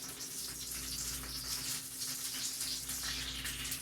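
Juices from a Dominican pernil, a roast pork shoulder, pour steadily out of a cooking bag in a continuous close liquid trickle and splash that sounds much like running water, with no talking.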